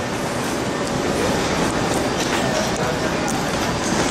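Narita Express train running between Narita airport and Shinagawa station, a steady loud rumble of the moving rail car heard from inside, with clattering track noise throughout.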